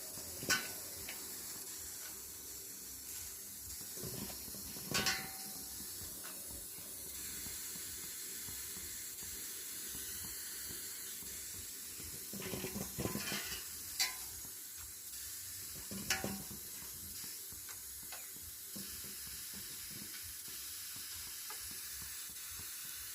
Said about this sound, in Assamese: পানীখিনি এতিয়া কি ধুনীয়াকৈ উতলি আছে দেখিছে নহয়।